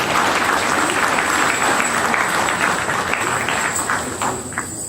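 An audience at a university Culture Day event applauds a dean, a dense, even wash of clapping from many hands that holds steady and fades slightly toward the end.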